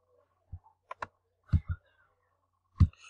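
A computer mouse gives several sharp, close clicks in a sparse, irregular run against near silence, with no voices.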